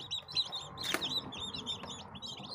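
Newly hatched chicks, among them naked-neck chickens, peep in an incubator with rapid, close, high-pitched cheeps. A brief rustle or thump cuts through partway.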